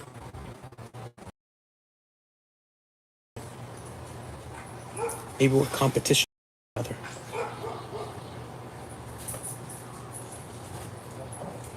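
Several backyard dogs bark outside in a cluster of loud, close yaps midway through, over steady outdoor hum, with a person talking before and after.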